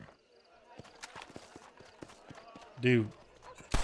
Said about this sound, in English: my horse really walking in front of me?